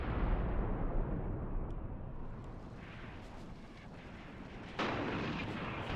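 Tank and artillery fire in an Iran-Iraq War video game: a sustained, heavy barrage of booming blasts and rumbling impacts, loud and dense, with a fresh surge of explosions near the end.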